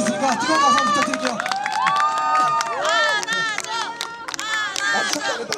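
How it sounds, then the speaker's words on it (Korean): A street audience at an outdoor performance in Sinchon, cheering and shouting: high excited voices and whoops dominate, with crowd noise underneath, loud and close. "여러분의 뜨거운 박수와 환호가 이 긴장을 다 녹여줄 수 있으니까 뜨거운 박수 부탁드릴게요"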